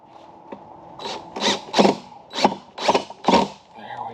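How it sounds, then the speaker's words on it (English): Cordless power drill driving screws to mount a water filtration unit in a greenhouse, several short whirring bursts in quick succession, fairly close and loud, with brief pauses between each run. "Get our drill and suck them in there tight."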